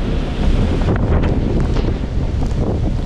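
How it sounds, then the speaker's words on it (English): Strong wind gust from Hurricane Nicole at the beach, roaring loudly across the microphone with surf churning underneath, a sustained blast lasting a few seconds with no voices. "That's a pretty gnarly gust."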